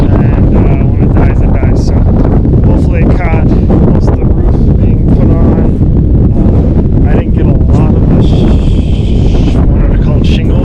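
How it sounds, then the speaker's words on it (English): Strong gusting wind, steady at about 22 mph with gusts near 32, buffets the microphone at an outdoor off-grid solar shed build site, a loud continuous roar with rustling surges throughout. "It's also winds are 22 miles per hour, gusting up to 32"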